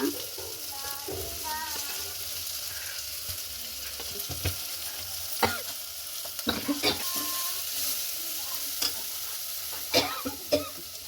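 Rasam being stirred in a pot after salt and turmeric go in, for a grandmother-style pindi charu: a steady soft scraping and swishing with occasional sharper clinks of the spoon against the vessel, fairly close, with no talking.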